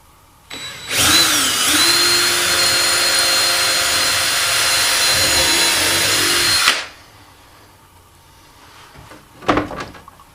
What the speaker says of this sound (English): I'm going to drill right here.